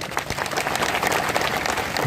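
A crowd at a rally in honour of Tantya Bhil applauds the event organisers, with dense, steady clapping that fills the whole moment at moderate volume.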